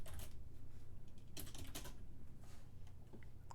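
Code being typed on a computer keyboard as a quick run of close keystroke clicks over a low rumbling background, with a couple of denser bursts and no talking.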